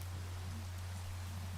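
Steady, soft rain hiss from the video game Minecraft, a continuous wash of falling rain over a low constant hum, with no voices.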